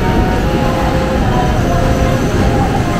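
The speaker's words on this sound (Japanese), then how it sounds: "じゃあ新幹線乗ります。" A Shinkansen bullet train in a station, a steady loud rumble of rail noise filling the scene throughout, with faint background voices mixed in.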